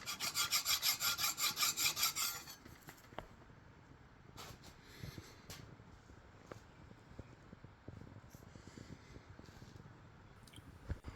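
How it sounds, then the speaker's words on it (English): A hand file rasps across the flat cast-iron mating surface of a 1972-1982 Ford Courier exhaust manifold, opening with about two seconds of loud, fast rhythmic strokes, then sparser scraping and handling noises. "pausing occasionally to run a file across it in multiple directions, kind of a cross-hatching pattern"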